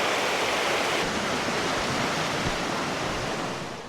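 A river runs loud and constant beside a forest road, a broad steady rush of water that holds even throughout and eases slightly near the end, with no talking.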